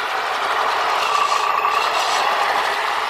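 An HGP803A HEMTT 8x8 RC military truck's small electric drive whines steadily while crawling along in its low gear, a close, fairly quiet continuous motor hum with faint mechanical rattle.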